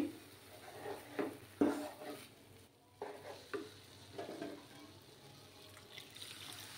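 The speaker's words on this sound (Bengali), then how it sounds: "আর মিক্স করতে থাকবো।" A semolina mixture being stirred in a pan over low heat for semolina rosogolla, with irregular scraping and sloshing strokes of the spoon, some louder than others, and no voices.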